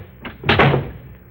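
A door slammed shut as a radio drama sound effect, one loud wooden bang with a short rattle and ring-out, close and alone after a faint click of the latch.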